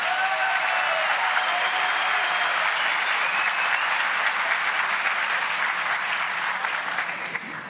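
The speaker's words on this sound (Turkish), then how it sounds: "aranızda bulunan Cumhuriyet Halk Partililer de alkışlarıyla destek veriyorlar." Sustained loud applause from a studio audience during a live Turkish TV debate broadcast, steady and dense throughout before easing slightly at the end, with no voices above it.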